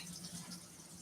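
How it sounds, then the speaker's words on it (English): Water runs steadily from a kitchen sink faucet as hands are washed, a soft, even splashing hiss heard close by with no talking. "I'll wash my hands, wipe off my counter a little bit"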